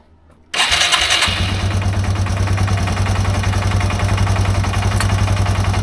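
A Yamaha TW200 motorcycle with running issues cranks and starts after a brief quiet moment, then idles and revs loudly and steadily at close range.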